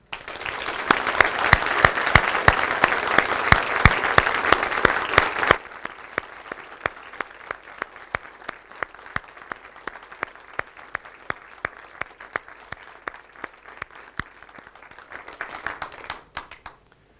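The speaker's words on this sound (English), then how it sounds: "we should give Vicky Phelan a massive round of applause" Audience applause at a portrait unveiling on International Women's Day: loud, dense clapping for about five seconds, then thinning to scattered, sharper individual claps that continue before fading out.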